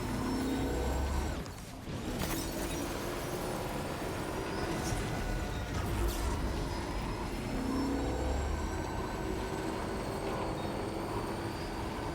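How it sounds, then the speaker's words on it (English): A train rumbles past in the video game Death Stranding 2, a steady mechanical roar holding through the whole stretch with a brief dip early on, no voices over it. "More train over there."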